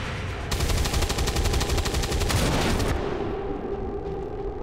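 Overwatch reaction fire in XCOM 2: War of the Chosen, a dense burst of rapid automatic gunfire lasting a couple of seconds, loud and close, then fading into a low ambient rumble.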